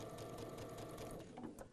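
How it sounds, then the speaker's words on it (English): A sewing machine stitches a 1/4-inch quilting seam, its needle running in a fast, steady mechanical whir close by, slowing and changing slightly near the end. "Get my sewing machine set for a 1/4-inch seam"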